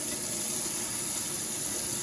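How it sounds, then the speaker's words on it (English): Kitchen tap water runs to rinse out an empty tuna can. It makes a steady, close hiss and splash for a couple of seconds. "So I'm gonna go ahead and run some water."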